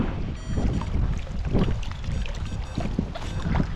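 Strong gusting wind roars against the microphone over open water, with buffeting low rumble and splashy noise throughout.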